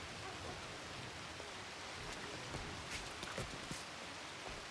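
Steady rain falling in a video game world, a continuous soft hiss with scattered brief drop-like ticks, fairly quiet and alone without talk.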